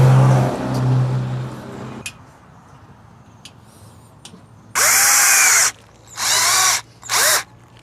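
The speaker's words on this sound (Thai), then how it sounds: "เจาะน้ำร่องก่อนนะฮะ" A power drill bores a pilot hole into an old table in three loud whirring bursts, the first longest and the last shortest, after some low handling noise and a brief murmur.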